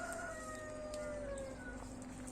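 A rooster in a backyard chicken coop in Denizli gives a faint, drawn-out crow with a slowly falling tone over a low, steady background hum.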